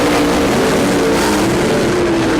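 Race cars running side by side for the lead into turn one on an oval racetrack, a steady loud engine drone with slowly shifting pitch, no talk.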